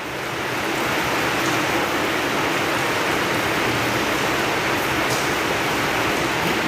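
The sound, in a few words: rain falling at a school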